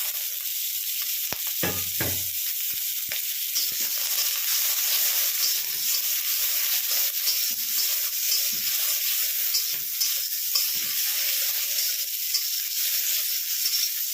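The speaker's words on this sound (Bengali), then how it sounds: "এই যে টমেটো, লঙ্কা, এটা একটু হালকা করে ভেজে নেব।" Chopped tomato and green chili fry lightly in hot oil in a pan for masala bhindi, a constant bright sizzle with a few brief utensil scrapes early on, close and steady without speech.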